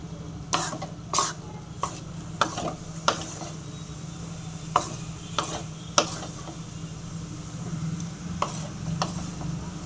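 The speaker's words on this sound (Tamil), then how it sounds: "நல்லா ஃப்ரை ஆகட்டும்" Amla (gooseberry) pickle being stirred in a large batch of sesame oil, with a steady low frying hiss under irregular scraping and clanking strokes of the ladle against the pan, fairly close and without talk.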